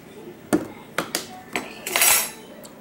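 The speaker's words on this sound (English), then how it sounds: "Dry ingredients, mix them up." Dry dumpling ingredients (baking powder, salt, parsley) being mixed, heard as a few sharp clinks and scrapes of a utensil against a bowl, quiet and close, with a brief scraping swish near the end.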